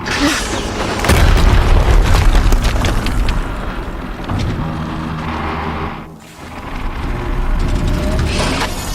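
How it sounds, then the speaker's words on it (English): A loud, deep explosion rumbles in the Horizon Zero Dawn video game, sustained booming blasts filling most of the span with a brief dip before the roar swells again. "Another explosion."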